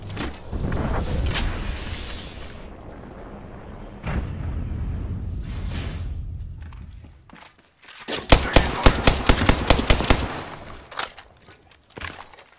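Gunfire aimed at an enemy shield in Apex Legends: a loud roaring burst and explosive rumble at first, then a rapid string of sharp automatic shots in a tight rhythm, followed by a few scattered cracks.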